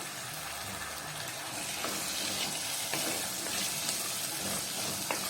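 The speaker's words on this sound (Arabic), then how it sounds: "والفول فصصيه واشطفيه كويس، هنزل بيه بقى على البصله، اشوحه على البصله" Fava beans sauté with onion in a pan, a soft continuous sizzle with scraping stirs over it, faint and close.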